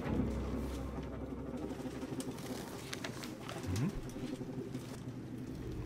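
Pigeons coo softly and repeatedly in a scene from the video game Detroit: Become Human, a low murmuring call over a steady background hum, with no talk.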